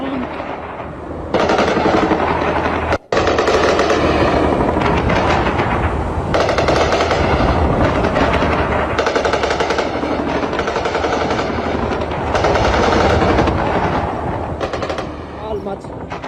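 Sustained automatic gunfire from fighting in southern Lebanon, loud and continuous with rapid bursts and a brief gap early on, in news footage.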